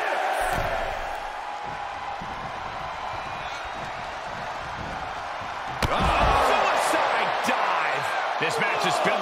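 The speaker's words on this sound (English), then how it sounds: "However you feel about Seth Rollins, he knows how to get the crowd going" Arena crowd noise from a WWE 2K23 wrestling match, a steady roar of cheering that swells louder partway through, with thumps and slams from the action and commentary-style talk over it.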